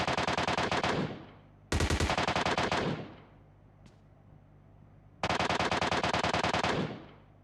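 Automatic gunfire from PUBG Mobile Metro Royale rattles out in three long loud bursts of rapid shots separated by short gaps, close and without talk.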